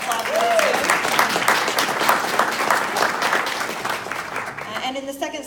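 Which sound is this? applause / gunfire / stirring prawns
applause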